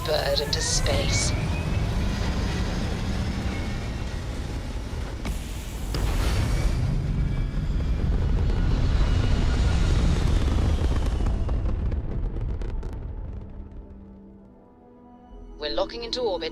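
Spaceship launching into space in the video game Starfield: a loud, sustained low rumbling roar of engines that swells and holds for most of the stretch, then fades before a brief burst of sound returns, with voices speaking over parts of it.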